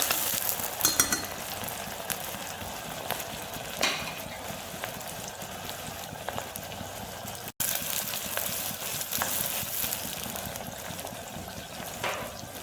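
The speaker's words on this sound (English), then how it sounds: "Now oil is hot, so we're gonna add the onion. It's one medium size onion. Let it saute for about 30 seconds." A medium onion sautés in hot oil for mutton pulao, giving a steady, moderately loud sizzle and crackle that runs throughout, with a few brief stir clatters and a momentary dropout near the middle.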